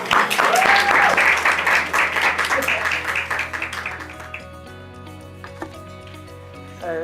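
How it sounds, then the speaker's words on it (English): An audience at a hospitality suite launch breaks into a round of applause, loud dense clapping in the opening seconds that thins and fades out as music continues underneath. "Round of applause."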